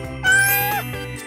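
A cat gives one clear, close meow that rises and falls, followed by a quieter trailing note, in a shared house.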